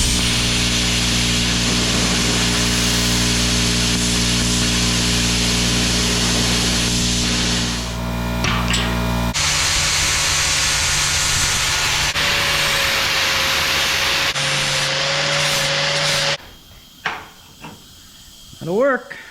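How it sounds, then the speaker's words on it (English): A Power Max 30 plasma cutter slices through half-inch metal: a loud humming compressor drone gives way to a steady hissing cut with a thin whine, then stops abruptly, leaving scattered clanks and shuffling. "I'm not sure if my plasma cutter will cut 1/2 inch metal, but we're gonna find out"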